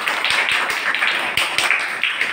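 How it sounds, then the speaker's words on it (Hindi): A group of children in a classroom clap their hands in short, lively bursts of quick close claps that repeat rhythmically several times over a couple of seconds, loud and without talking. "ताली बजाइए सब लोग।"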